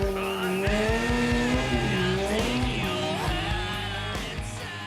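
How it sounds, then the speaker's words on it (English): A 2002 Harley-Davidson Electra Glide doing a night burnout, with loud squealing tire and a revving engine close by, a steady screech that wavers in pitch throughout. "Oh, great night for some burnouts."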